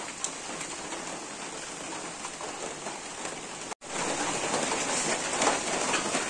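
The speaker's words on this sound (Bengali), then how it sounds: "আর এদিকে দেখো বৃষ্টি নেমেছে, দেখো তোমাদের বৃষ্টি দেখাচ্ছি" Steady rain pours down outside a home, a dense, even hiss of drops on surfaces that runs continuously, broken only by a brief cut in the middle before resuming just as strong.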